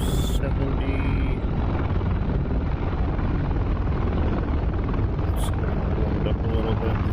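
OH-6 light helicopter turbine spooling up as the throttle is opened in the DCS flight simulator, a steady loud broadband roar with low rotor rumble throughout.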